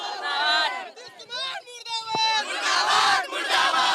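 An angry crowd of protesters shouts slogans at a chief minister's visit in Madhubani, loud voices overlapping continuously with raised individual cries above the din.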